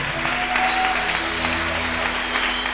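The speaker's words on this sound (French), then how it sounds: "Acclamons le Seigneur très fort." A church congregation at a French-language service claps and cheers to acclaim the Lord, a continuous crowd roar of applause with a sustained musical tone and hum running underneath.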